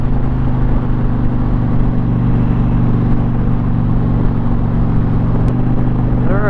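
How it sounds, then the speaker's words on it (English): Indian Challenger motorcycle engine rumbling steadily on a road trip ride, loud and continuous with a deep pulsing tone and a brief click near the end. "this bike sounds so good"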